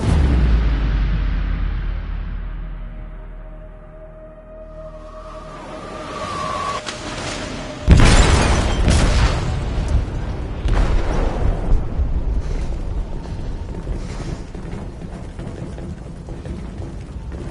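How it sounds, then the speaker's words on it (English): A heavy explosion goes off in a ship's hold in Detroit: Become Human, a sudden loud boom that rolls into a long, rumbling, crackling aftermath of debris and destruction. "detonated an explosive in the hold"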